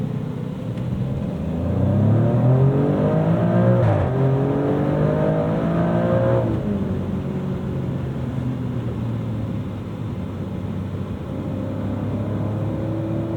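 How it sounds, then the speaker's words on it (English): A powerful Ford Mustang Dark Horse engine roars loudly and rises in pitch as it passes close by, then settles into a steady, lower rumble. "let my buddy Fenton from the Zygreen channel pass by in the Dark Horse."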